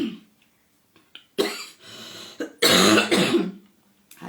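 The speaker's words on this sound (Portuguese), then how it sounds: "De vez em quando me dá umas tosse também, né?" A person clears their throat and coughs several times at close range, harsh rasping bursts separated by short quiet gaps, the loudest fit coming near the middle.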